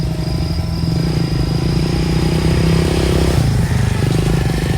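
A motorcycle engine drones steadily at night, rising slightly in pitch near the end, with a high insect-like whine and chirping over the top.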